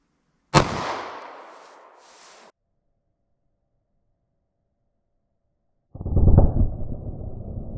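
A 9mm pistol round fired through denim layers, clear ballistics gel and MDF: one sharp close shot with a decaying tail, a long silence, then a later burst of rough noise.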